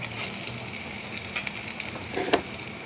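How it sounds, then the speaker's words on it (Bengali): Diced potatoes dropped into hot oil with dry red chilli, bay leaf, garam masala, panch phoron and green chilli, giving a loud continuous close sizzle with a few brief spatters and stirring knocks. "এখন আমি আগে দিয়ে দেবো আলু।"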